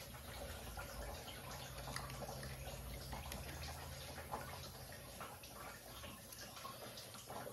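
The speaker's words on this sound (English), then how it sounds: "just let that coolant drain out and do its thing" Engine coolant draining from a 2014 Chevy Cruze 1.4L into a bucket, a faint, steady trickle and splash of liquid that continues throughout without pause.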